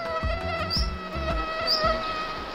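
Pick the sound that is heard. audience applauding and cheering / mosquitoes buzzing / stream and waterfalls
mosquitoes buzzing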